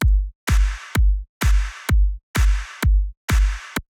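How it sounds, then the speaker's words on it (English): Electronic drum samples loop: a deep, booming kick alternating with a sharp clap, about eight hits in a steady rhythm with a short silence after each. Loud and dry, with no voices. "So let's mute just the kick and the clap."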